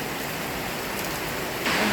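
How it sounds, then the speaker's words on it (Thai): Heavy rain that has been falling since morning pours down steadily as a dense, even hiss, close and continuous, with no voices. "ฝนตกแต่เช้าเลยเด้อจ้ะ"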